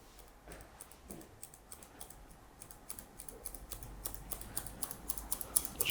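Barber scissors freehand cutting long afro curls on top after a low skin fade, quick quiet snips in a steady rhythm that grow closer and louder toward the end.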